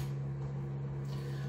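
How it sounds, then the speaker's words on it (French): A home heating unit hums steadily beneath a bathroom cabinet, a constant low drone with a strong tonal line, quiet and unbroken from start to finish. "Le bruit que vous entendez, c'est le chauffage qu'il y a juste en bas de vous."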